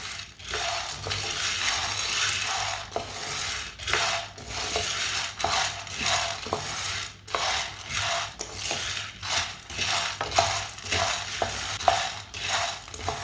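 A spoon stirs and scrapes through food frying in a pan over medium-low heat, rhythmic scraping strokes and clinks against the metal over a low sizzle, close and steady without speech.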